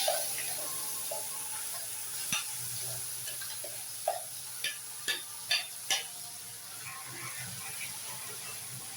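Curry leaf paste being stirred with a little water in a pan for Tamil curry leaf gravy, giving a soft continuous scraping with several brief utensil knocks in the middle, close and fairly quiet.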